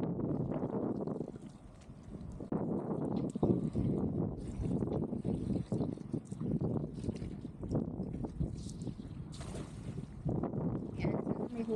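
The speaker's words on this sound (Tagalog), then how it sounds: "Malakas yung alon." Strong sea waves heard from aboard a small fishing boat, a steady rough wash and slap of water mixed with gusting wind noise on the microphone, continuous and close.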